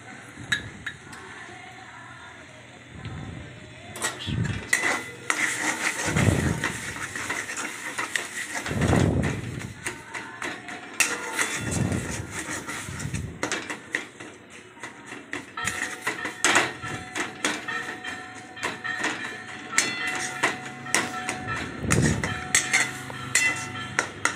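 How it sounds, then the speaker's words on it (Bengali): Mango laddu mixture being stirred in a pan with a metal spatula, steady scraping with frequent clinks and knocks against the pan, close and fairly loud, with no talking. "খুন্তি দিয়ে ভালো করে নাড়াচাড়া করে করে একদম শুকিয়ে আসবে জলটা।"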